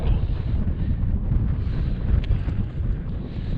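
Strong wind on a Scottish mountain during a Munro hillwalk, buffeting the microphone with a loud, continuous low rumble that surges and dips throughout.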